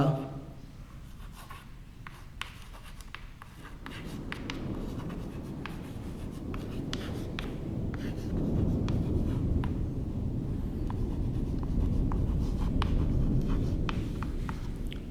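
Pen or marker writing steadily during a physics lecture on magnetic fields, a continuous scratchy scraping with faint tapping strokes, close and moderately loud, with a low background hum and no clear speech.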